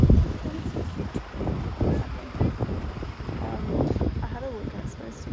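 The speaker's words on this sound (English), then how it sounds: "Currently setting up and it's super windy, which really sucks" Strong wind buffets the microphone outdoors while stalls are set up at a crochet night market, a steady low roar with gusts rising and falling throughout, and a voice talking over it.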